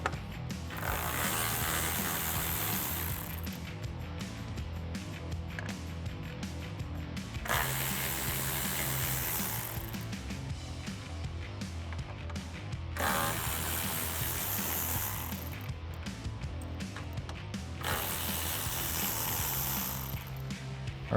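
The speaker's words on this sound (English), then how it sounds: "So I use my 10 millimeter socket to take these bolts out." A socket wrench ratchet with a 10 mm socket removes the grille bolts on a 2011-2016 Ford F250 Super Duty. It gives a quiet, steady run of ratcheting clicks in repeated bursts with short pauses between them, and no one speaks.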